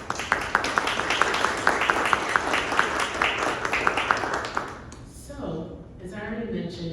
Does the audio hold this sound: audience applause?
yes